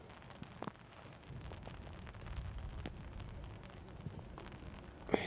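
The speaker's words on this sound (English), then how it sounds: "There's the rain coming down." Rain comes down on an outdoor golf course during a disc golf round, a steady hiss of drops with a few scattered taps, fairly faint and with no voices.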